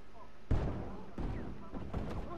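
Gunshots in the online Western game Red Dead Online, with Maxim guns around: a heavy thump followed by several more bursts spread over a couple of seconds, mixed with game noise and voices.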